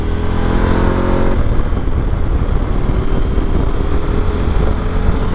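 A motorcycle engine drones loud and close while riding, with a steady rumbling roar and a slight shift in pitch partway through, and no talk over it.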